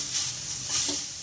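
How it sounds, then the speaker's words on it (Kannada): Grated carrots frying in ghee for carrot halwa, a soft steady sizzle with faint stirring scrapes, quiet and close. "ಎಲ್ಲ ಮಿಕ್ಸ್ ಮಾಡ್ಕೊಂಡು ಫ್ರೈ ಮಾಡ್ಕೊತೀವಿ."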